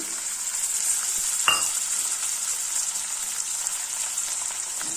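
Sweet corn goes into a pan for pulao and gets stirred, bringing a steady fry hiss with one sharp utensil clink partway through and another light tap near the end, no voices.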